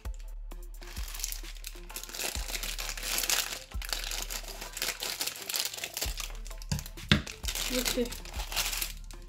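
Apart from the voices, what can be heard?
crinkling plastic packaging of an anti-stress ball being opened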